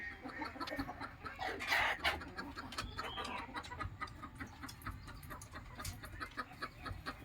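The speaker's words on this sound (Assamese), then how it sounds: "মোৰ মুৰ্গীবিলাক ঠিকে আছে" Brooding hens and chicks cluck and chirp steadily in a warm poultry shed, with one louder squawk partway through and a busy, dense backdrop of fowl calls, no talking.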